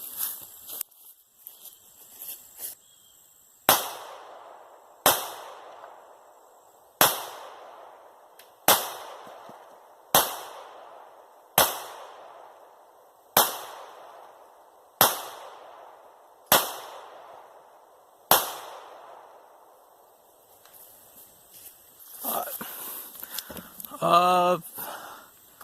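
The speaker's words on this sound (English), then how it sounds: "I'm gonna empty another mag. That's about 10 rounds" A Glock 48 pistol fires ten loud, sharp shots at a steady, unhurried pace, each with a short ringing decay, followed by faint handling noise and indistinct voices.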